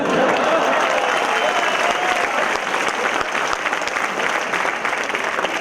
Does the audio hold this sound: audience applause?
yes